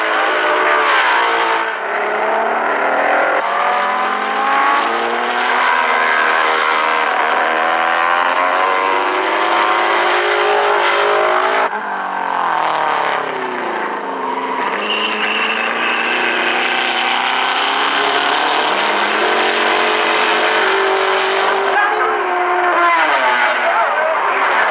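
Race cars lapping a damp, slippery circuit at the 1961 24 Hours of Le Mans, engines roaring loud and continuous with rising and falling revs as cars pass close by, a steady mechanical drone throughout.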